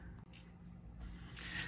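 A set of everyday-carry keys handled by hand makes a couple of brief metallic clinks and jingles, one early and a slightly longer one near the end, close and fairly quiet.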